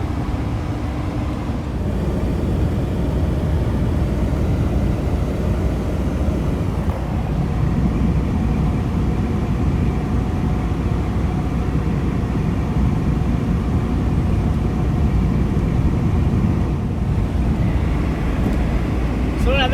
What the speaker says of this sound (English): that's the blower on the screen going flat out